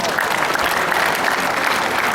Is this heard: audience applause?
yes